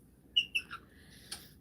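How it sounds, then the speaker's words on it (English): African grey parrots give a few sharp, high chirps and tweets close by while opening Christmas gifts, with a soft low rumble of room noise underneath. "Kim, my African Greys are opening their gifts now."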